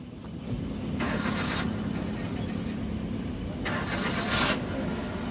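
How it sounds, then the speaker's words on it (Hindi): A car engine cranks and catches, rising into a steady idle hum, with a second brief revving burst later. "गाड़ी स्टार्ट कर"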